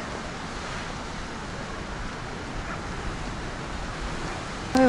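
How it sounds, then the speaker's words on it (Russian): Continuous rushing roar of strong surf on a beach in Alanya, Turkey, in January, with wind noise, a voice starting right at the end. "здесь сильные волны"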